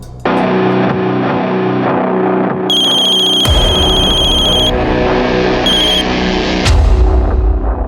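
A telephone rings in a dramatized crime episode, with electronic ringtone bursts sounding loud and steady over a heavy, distorted musical backing throughout.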